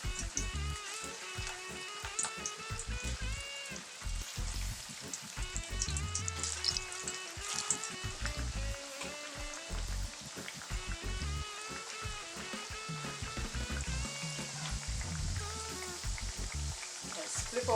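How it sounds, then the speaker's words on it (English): Plantains fry in a hot pan for a Trinidadian breakfast, giving a steady close sizzle peppered with fine crackling pops that carry on without a break. "I'm just going to go ahead and fry up some plantains"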